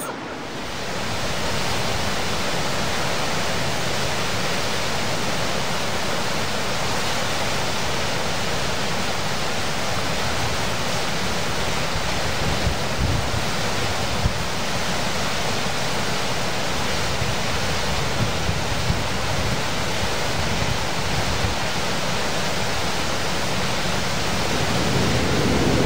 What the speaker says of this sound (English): the waterfall is called the Waterfall of the Gods